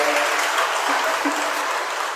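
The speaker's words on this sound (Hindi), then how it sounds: "ताली बजाओ, आप बजा दिया।" An audience at a religious discourse bursts into loud, dense applause, many hands clapping together in a sustained burst that tapers slightly toward the end.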